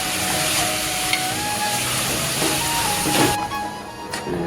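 Ground coconut, ginger and garlic paste fries with onion and tomato in a pan for a potato curry while being stirred, making a loud, continuous sizzle with scraping stir strokes that thins out near the end.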